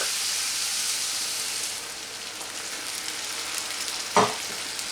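Beef stock hitting browned beef in a hot pan, a steady loud sizzle and hiss that eases slightly, with a brief clink near the end and no talking.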